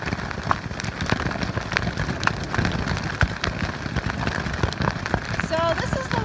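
Steady rain falls during a desert thunderstorm, a dense hiss of drops striking surfaces with occasional sharper pops, loud and continuous close by throughout.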